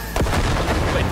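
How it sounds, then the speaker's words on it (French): A grenade blast in the video game Cyberpunk booms out as a sudden loud, deep explosion with a rumbling tail filling the short moment. "Oh, elle était belle cette grenade."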